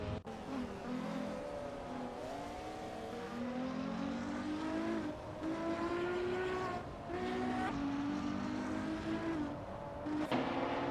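Race cars in a racing video game at Road Atlanta drone and whine with layered engine tones rising and shifting in pitch, one exiting the pits, steady and continuous throughout.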